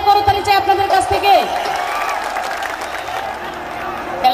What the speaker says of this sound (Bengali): তার জন্য জোরে একটা করতালি চাই আপনাদের কাছ থেকে